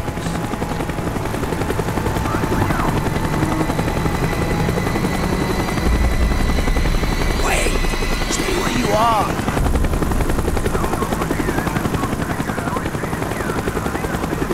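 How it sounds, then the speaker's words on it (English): A helicopter in the Call of Duty: Black Ops video game, a loud, close, continuous rotor thump and engine drone with brief bursts of combat sounds and a voice speaking over it. "The chopper is coming around again."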